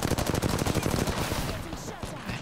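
Rapid automatic gunfire from an R-99 in Apex Legends, a dense burst of quick repeated shots that stays loud through most of the stretch and thins slightly toward the end, with a voice faintly underneath.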